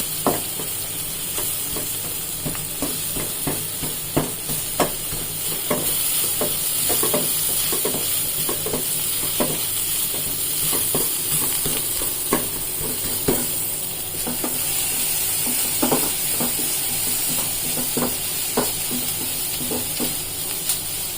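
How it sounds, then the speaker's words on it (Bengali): Onions frying in a pan beside a second burner, a continuous close sizzle broken by frequent rhythmic stirring scrapes and taps throughout. "আর এক পাশে বসিয়েছি, পেঁয়াজ ভেজে দিচ্ছি।"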